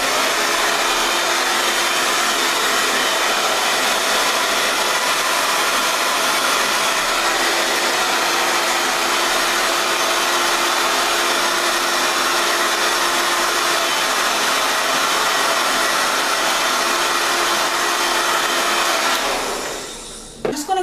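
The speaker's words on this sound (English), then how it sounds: "Now I'm gonna take my blow dryer." A blow dryer styling a synthetic wig roars steadily at close range with a constant broadband whoosh and faint whine, then cuts off abruptly at the end.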